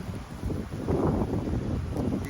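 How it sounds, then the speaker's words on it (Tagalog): Strong wind buffeting and roaring in gusts during snowfall, rumbling low and loud close by, with no talking. "Malakas pa po ang hangin"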